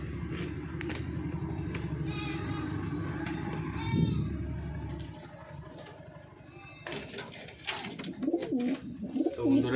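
Giribaz pigeons coo in a loft during a rainy day, soft repeated throaty coos close by mixed with rustling and handling noises, a person talking at times over them.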